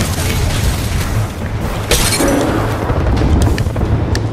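Missile strikes in Apex Legends land as booming impacts, one sharp crack standing out amid a continuous low rumble of explosions and combat noise.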